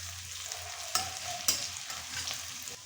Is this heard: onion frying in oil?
yes